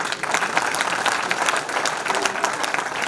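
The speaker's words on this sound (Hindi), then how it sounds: "तालियां बजाते ही रहे" Steady audience applause at a Jat Sabha gathering in Chandigarh, dense continuous clapping from a crowd filling a few seconds with little talk.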